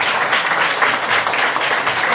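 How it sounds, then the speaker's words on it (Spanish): Loud, dense applause fills the room at a football club's press presentation of a new signing, continuous clapping from the crowd throughout. "¡Fuerte el aplauso!"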